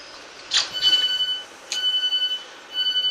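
At Baldock station a departing train sounds a series of high electronic beeps and tones in three separate bursts, with a low rumble of rail noise under them.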